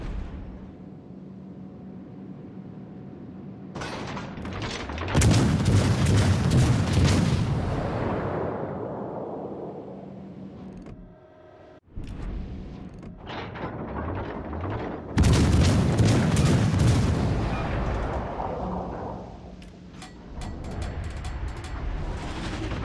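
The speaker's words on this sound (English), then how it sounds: "Fire on the enemy warship." Naval guns on a warship fire at an enemy ship in a video game, two massive booming salvos several seconds apart, each with a long rumbling decay, over a low ambient background.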